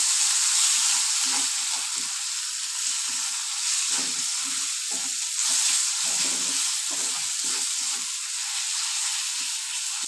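Chopped tomatoes with salt fry down with spices in a pan for a Bengali ghugni, producing a bright, constant sizzling hiss punctuated by frequent soft stirring knocks, close and steady.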